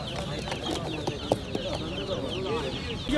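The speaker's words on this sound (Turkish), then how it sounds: "Şurada bir horozumuz var" Chickens and a rooster cluck and chatter close by at a poultry market in Osmaniye, with bird calls overlapping in a busy, continuous stretch and crowd voices faintly underneath.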